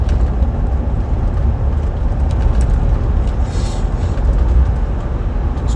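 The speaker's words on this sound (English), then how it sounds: "Just trundling down the road quite happily." A 2000 Range Rover P38 Holland and Holland cruising along a road, heard from inside as a steady low engine and road rumble with tyre noise, constant and moderately loud, with no talking.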